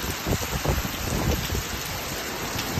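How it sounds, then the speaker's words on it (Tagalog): Heavy rain pours down outdoors in a dense, constant hiss with scattered close patters of drops striking surfaces, loud and unbroken throughout. "Grabe yung lakas ng ulan."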